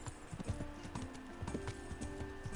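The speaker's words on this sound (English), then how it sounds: "And I got my horse now" Horse hooves clip-clop at a walking pace in the medieval video game Kingdom Come: Deliverance, a quiet, regular run of hoofbeats over faint ambient background.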